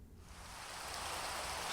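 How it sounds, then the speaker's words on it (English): Steady rain falling in Minecraft, a broad even hiss of downpour that swells slightly louder over a couple of seconds, heard alone with no voices. "Right when I decided to start recording again, it starts raining."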